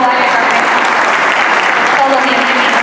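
Audience applause fills a hall at a band's 20th-anniversary concert in Oruro, Bolivia: a loud, steady wash of clapping from a large crowd, with a voice speaking over it.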